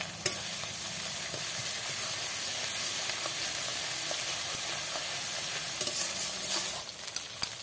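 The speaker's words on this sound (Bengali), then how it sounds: "এবারে আমি এই আদা আর রসুন বাটাটা দিয়ে দেব।" Ginger garlic paste frying in a hot pan gives a continuous loud sizzle and hiss, with occasional stirring scrapes and small pops near the end.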